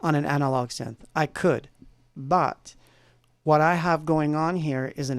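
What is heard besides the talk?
No everyday noise stands out behind the speech.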